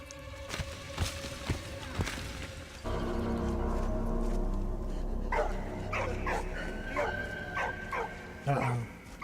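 A dog barks and yips in the World War I video game Valiant Hearts: The Great War, several sharp barks and whimpers in the middle distance alongside game sounds while someone talks.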